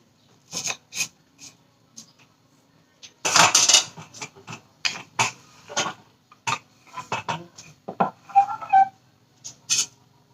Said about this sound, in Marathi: पहिलं कांदा कट करते.